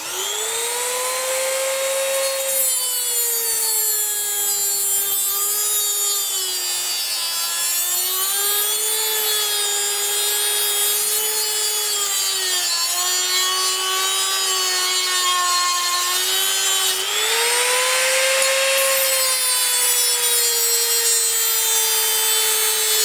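A workpiece for a shop-made tailstock DRO is cut down to length, giving a loud, continuous whining grind that rises and dips in pitch for over twenty seconds with no talking.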